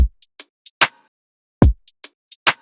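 Sliced trap drum loop played with a swung groove: deep booming kicks, crisp snare claps and short ticking hi-hats in an uneven, bouncy pattern, punchy and clean with no voices.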